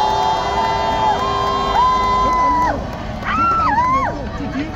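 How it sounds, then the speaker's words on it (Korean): A large crowd roars and cheers at an outdoor national protest rally against a veto, with a steady wash of voices and shrill tonal whistles or horns gliding up and down above it. "여러분들의 힘찬 박수와 함성으로 시작하도록 하겠습니다"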